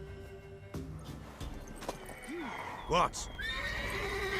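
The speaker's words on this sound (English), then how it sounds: "Worthy of the best horse. The mare is yours." A horse neighs in The Witcher 3 video game, with two or three rising-and-falling whinnies amid soft hoof clip-clops, while a character briefly speaks.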